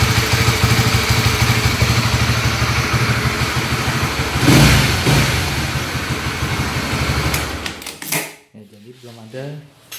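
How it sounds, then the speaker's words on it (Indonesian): A Honda CB150R motorcycle engine runs steadily and loudly, then revs up briefly before cutting to quieter, uneven putters near the end. "Jadi kan banyak yang bilang motor ini klotok-klotok ya katanya."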